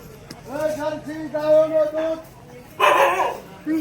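Dogs barking close by: drawn-out whining, yelping tones, then a loud, harsh burst of barking.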